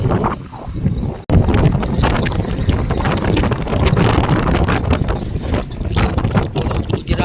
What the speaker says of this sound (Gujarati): કેટલો પવન છે